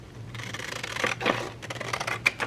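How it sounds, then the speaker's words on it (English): Scissors snip through material to cut out a pocket for a waterproof, interchangeable journal cover, a steady run of close, soft cutting strokes at a desk with no talking. "let's go ahead and cut out another pocket"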